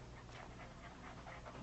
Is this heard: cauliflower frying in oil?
no